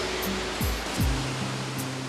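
A steady broadband rush of a waterfall near Ulaanbaatar, Mongolia, constant and enveloping, with faint low tonal sweeps passing beneath it.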